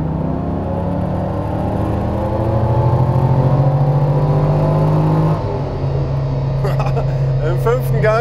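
A 500 hp LS3 V8 in a swapped Subaru BRZ drones steadily while it accelerates in fifth gear, and the engine note rises under a voice heard inside the car.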